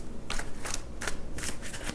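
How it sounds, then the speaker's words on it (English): A deck of tarot cards gets riffled in quick bursts, about five crisp fluttering shuffles in a row. They sound close and moderately loud, with no speech over them. "3 more shuffles for Gemini"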